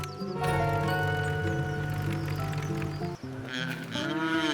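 Cartoon farm sound effect of cows mooing, long loud drawn-out moos that hold steady, then a brief break and a rising final moo.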